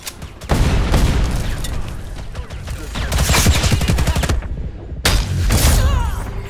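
A ground launcher fires in a video game, with loud rapid booms and continuous bursts of gunfire close up, a short pause, then more firing.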